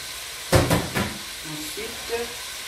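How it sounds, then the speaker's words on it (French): Meat for koko sizzles in a pan, opening with a loud burst of frying hiss that settles into a steady crackle while a voice speaks over it. "on grille. On laisse bien griller."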